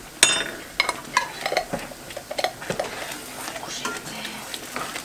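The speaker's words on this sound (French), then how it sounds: "Je vais ajouter une belle cuillère à soupe de moutarde à l'ancienne, donc avec des morceaux" Spoon scraping and stirring wholegrain mustard through risotto in a pan, with clinks and light sizzling throughout and a voice speaking now and then.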